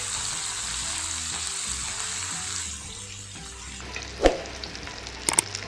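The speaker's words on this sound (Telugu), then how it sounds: "చూసారా మన సాగర కన్య ఫిష్ ఎంత బాగా ఫ్రై అవుతుందో" Sagara Kanya fish fries in a pan with a steady, bright sizzle, then a running-water sound and a few sharp clatters toward the end, all close by.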